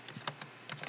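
A few light keystrokes on a computer keyboard, soft scattered clicks in two brief clusters, quiet and close with nothing else around them.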